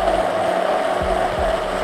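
A kitchen blender whirs steadily and loudly as it purees paprika, coriander and water, a constant motor roar with no pauses.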